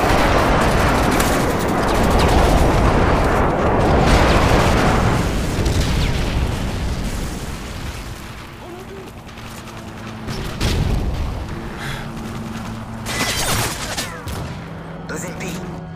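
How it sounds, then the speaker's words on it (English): Airstrike explosions in the Modern Warfare 3 video game boom and rumble heavily through a loud, dense wash of gunfire and blasts, with further thuds and impacts continuing throughout. "Enemy airstrike approaching."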